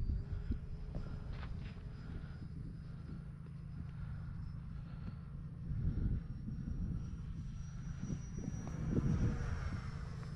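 An E-flite Viper RC jet flies at half throttle on a lighter 6S battery pack, giving a steady, distant whooshing drone that swells and fades slightly as it passes overhead, with no voices.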